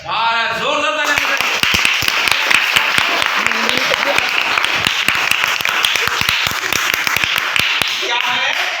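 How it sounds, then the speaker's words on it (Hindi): Ninth-grade classroom of students breaking into loud applause, dense overlapping hand claps sustained for several seconds, with a voice speaking briefly at the start before the clapping swells. "जोरदार तालियां।"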